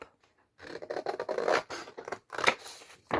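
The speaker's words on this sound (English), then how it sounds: "now I'm going to cut off this border off the top" Scissors snip the paper border off the top of a journal page, close and crisp, in a run of quick cutting strokes with short pauses between them.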